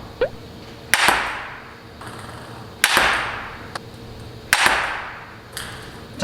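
Table tennis forehand smashes strike the ball in sharp, loud cracks roughly every two seconds, each followed by a short bounce and reverberant room tail.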